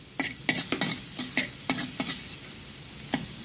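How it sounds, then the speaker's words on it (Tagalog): Garlic dropped into hot oil for oatmeal arroz caldo, a close, bright hiss of frying punctuated by quick spatula scrapes and taps roughly every half second, with no speech. "So, ilalagay ko na yung garlic."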